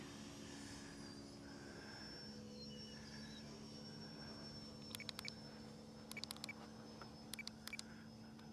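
A distant, steady jet-like whine from a flying FMS 64mm F-16 EDF model jet drones through the whole stretch, with a few brief clicks toward the end; no one speaks.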